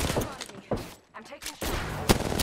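Rapid gunfire in the video game Apex Legends, dense bursts of close shots with a short lull in the middle, then sustained firing and a sharp impact near the end.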